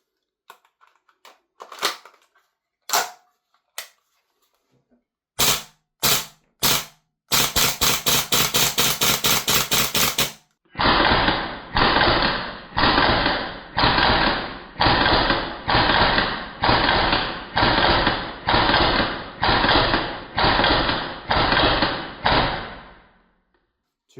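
An Umarex VFC G36C gas blowback airsoft rifle fires BBs: a few scattered sharp single shots, then a fast dense volley of cracks, then a long run of evenly spaced quick bursts, each a clipped mechanical clatter, loud and close.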